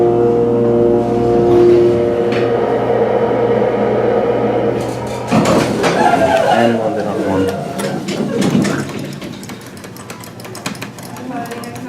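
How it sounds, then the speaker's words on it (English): Sliding doors on an aging Schindler hydraulic elevator in a JCPenney at Westfield Garden State open and close with a grinding, rattling scrape after a steady motor hum, while people talk nearby. "these doors sound horrible. Horrible sounding doors"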